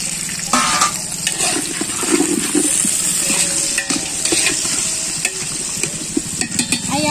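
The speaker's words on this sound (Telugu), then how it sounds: "క్యారెట్ వేస్తున్నాను ఇందులో" Carrots tipped into a frying pan over a home cooking fire and stirred, giving steady sizzling with repeated spoon scrapes and clinks against the pan, close and fairly loud throughout.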